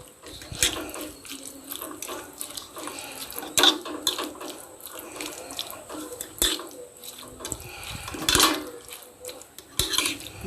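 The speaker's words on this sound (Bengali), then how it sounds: "তো এই সবগুলো উপকরণ দিয়ে ভালো করে আমি মিশিয়ে নেব।" Raita ingredients, yogurt with spices such as cumin powder or chaat masala, being mixed in a bowl, with irregular clinks and scraping of a spoon against the dish and wet stirring sounds, fairly close and alone.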